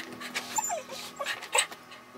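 A dog whimpers and yips in short, high-pitched bursts, excited and close by, with no talking.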